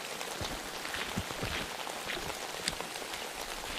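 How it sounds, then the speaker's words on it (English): Full rain from a hurricane pours down steadily outdoors, a dense, even hiss of drops with faint scattered taps, cool and breezy, with no voices. "I guess I should talk about the weather. Full on rain."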